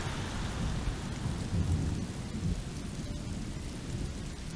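Steady rain and low rumbling thunder fill a gloomy scene in the video game Road 96, a constant wash of moderate loudness with no voices over it.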